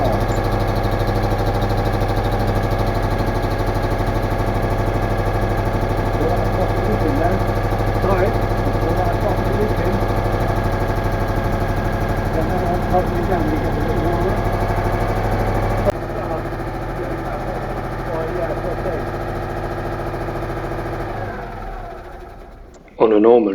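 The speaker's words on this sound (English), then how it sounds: "On a normal day, I would never leave an air-cooled engine run that long without its fan" A Citroen Mehari's air-cooled engine idles with its exhaust freshly sealed with cement, a steady, close, continuous drone that runs unbroken before a brief change near the end, with a person speaking over it in places.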